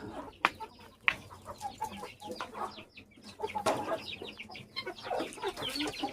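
Several chickens cluck and squawk close by in a busy, irregular chorus, with sharp calls breaking through the steady clucking.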